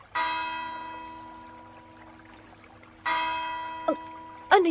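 A church bell rings twice, each strike ringing out and slowly fading, followed by a brief pouring splash.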